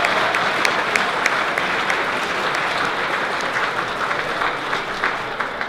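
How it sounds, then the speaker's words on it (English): Audience at the University of Mary athletics Night of Champions giving senior athletes a sustained round of applause, loud dense clapping that holds steady for several seconds without talk. "Let's give our seniors one last round of applause."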